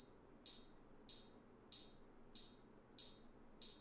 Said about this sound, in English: Then I have this open hat pattern right here that's gonna sound like this.